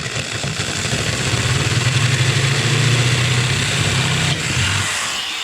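A handheld drill with a keyless chuck bores a hole during the reassembly of a Jaguar MKII, giving a loud, steady motor whine with a low hum under it that holds for about four seconds, then eases off.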